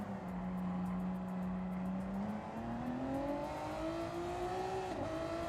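A race car's engine in a sim racing game, heard on board as a steady, loud drone that slowly climbs in pitch while the car accelerates, with brief gear-change dips and a faint ticking overlay.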